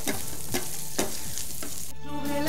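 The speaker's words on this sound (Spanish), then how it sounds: "Voy a dejar que el tocinito se siga dorando, que es lo que quiero" Bacon browning in a pan for chicken in bacon and mushroom sauce, a steady close sizzle and frying crackle with periodic scraping stirs, loud and continuous with no talking.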